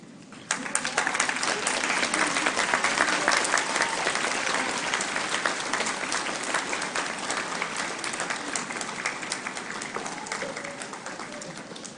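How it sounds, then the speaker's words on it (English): A standing convocation audience at a university ceremony claps in a loud, dense, continuous ovation that starts abruptly and holds steady for the whole stretch, with no talking over it. "This would be a good time for you to stand and applaud those who have supported"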